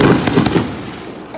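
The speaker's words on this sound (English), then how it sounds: "So big fireworks." Big fireworks bursting at a Fourth of July event, a few sharp crackling pops in quick succession at the start, then a fading rumble.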